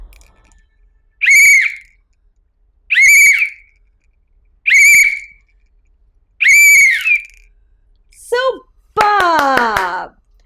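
Four evenly spaced, clear rising-and-falling whistles sound close and loud, followed by a quick falling swoop and a longer warbling whistle, with nothing else in between.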